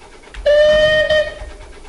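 A steam train whistle in the Roblox railway game MSR Golden Years sounds as one loud, clear tone of about three-quarters of a second, with a low rumble beneath and no talking.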